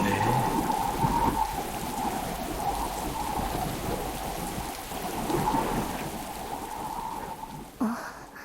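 Steady heavy rain pours down in an anime scene of a red storm over a royal city, with low rolling thunder rumbling beneath the hiss throughout and a brief louder knock near the end.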